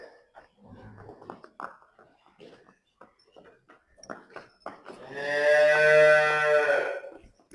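A Nili-Ravi water buffalo lets out one long, loud, deep low near the end, after a stretch of quieter rustling and faint voices close by.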